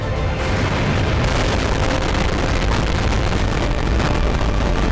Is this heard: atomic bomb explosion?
yes